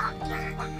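Ducks quacking at a duck egg farm, a loud, continuous chorus of overlapping calls packed into under a second, with no talking.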